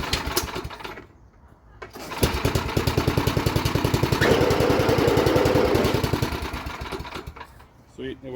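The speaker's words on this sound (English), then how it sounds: "put the belt cover back on and then start it up and make sure that the auger works" A small MTD snowblower engine runs with the auger engaged on slow speed, a steady rapid chugging drone that rises and holds near the listener, with brief quieter moments at the start and end.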